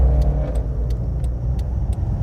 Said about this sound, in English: That was a noisy car.